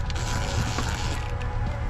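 Socket wrench loosening a hose clamp while a cold air intake is fitted to a C7 Corvette, giving continuous mechanical creaking and ratcheting close by, steady and fairly quiet, with no talk.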